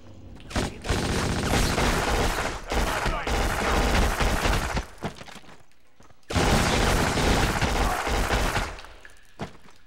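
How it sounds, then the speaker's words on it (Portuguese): Sustained bursts of machine gun fire with booms and shattering debris in the PS2 shooter Black, loud and dense, pausing briefly midway before resuming at full intensity. "eu vou tentar matar eles com a metralhadora, mano"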